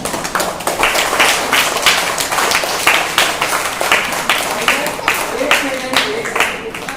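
A class of children claps for a student at a spelling bee, a lively burst of many small hands in quick, uneven patters, with voices chattering underneath.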